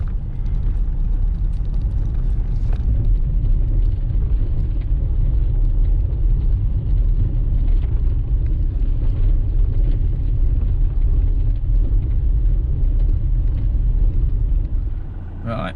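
A car passes on a road below, recorded from a hovering DJI Mavic Mini drone: a steady low rumble of tyres and engine runs throughout, blending with rotor and wind noise, with no clear talk.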